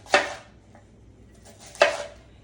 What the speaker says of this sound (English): And then I'm just going to chop it rough.